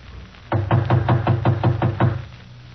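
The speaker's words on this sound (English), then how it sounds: "I'll knock again." Knuckles rapping on an apartment door, eight evenly spaced firm knocks in a steady rhythm, close and clear, with no voices over them.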